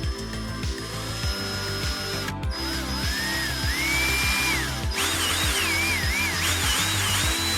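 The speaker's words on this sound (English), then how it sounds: "Make sure the screws are lined up, and we're going to screw these back on." Screws being driven back into a JVC MX-GT700 speaker with a power driver, a rapid repetitive ratcheting clatter under a whining motor pitch that rises and falls, close and steady throughout.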